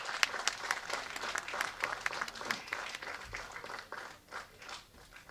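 Applause welcoming film actors at a Tamil movie event, moderately quiet and uneven, with distinct individual claps popping out of a crowd patter that swells and eases over several seconds.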